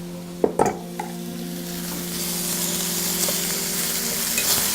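Marrow bones browning in a pan, giving a continuous loud sizzle that swells over a few seconds, with a couple of brief knocks at the start and a low steady hum underneath.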